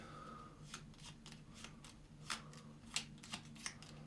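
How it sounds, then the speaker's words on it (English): Cards for a solo board game are shuffled with a series of quick, crisp riffling bursts, close up and fairly quiet, with no talking. "So I'm going to shuffle these up."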